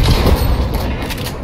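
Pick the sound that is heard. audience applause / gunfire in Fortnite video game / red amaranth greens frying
gunfire in Fortnite video game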